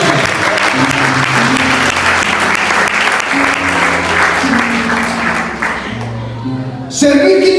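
A church congregation applauds loudly and steadily during a worship service, a dense wash of clapping that runs for several seconds, dips briefly, then swells again near the end.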